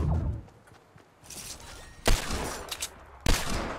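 Fortnite video game gunfire: a burst of shots early, then two sharp loud cracks with a swishing tail between them, close and dry with no talking.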